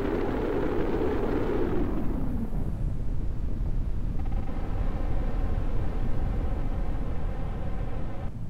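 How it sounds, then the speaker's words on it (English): A booster fuel tank explodes in Kerbal Space Program, a heavy roaring blast that swells at the start and decays into a long rumbling, crackling wash of noise with no voices. "Fuel tank for our boosters exploded."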